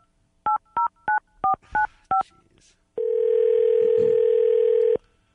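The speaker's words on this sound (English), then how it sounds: "Let me dial this up again." A telephone being dialed: six quick, evenly spaced DTMF keypad beeps, then a pause and a single long, steady tone of about two seconds, clear and alone.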